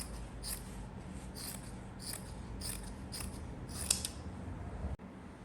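Scissors cut through fabric in a sequence of crisp, close snips spaced roughly half a second apart, fairly quiet over a low room hum.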